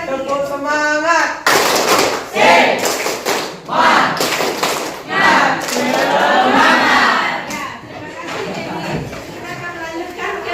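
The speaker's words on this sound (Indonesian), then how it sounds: "tepuk semangat" A group in a classroom coaching session performs the rhythmic Indonesian 'tepuk semangat' spirit clap, with bursts of patterned hand claps and shouted chant mixed with voices, loud and close.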